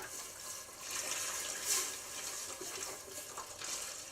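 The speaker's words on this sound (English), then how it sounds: "Now I'm going to add 12 cups of vegetable broth" Vegetable broth pouring into a cooking pot, a steady soft liquid stream running for several seconds, close and fairly quiet with no voices.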